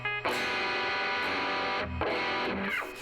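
Heavily distorted electric guitar chords with unmuted strings left ringing between the fretted notes, giving a messy, buzzing wash; two loud strummed chords sound in a row with no talking.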